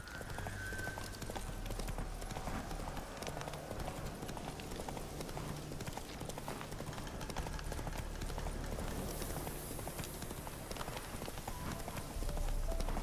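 Horse hooves in a video game clip-clopping at a steady, continuous rhythm, faint and mixed with game ambience throughout.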